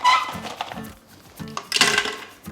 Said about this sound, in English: we're gonna add in some ice to our blender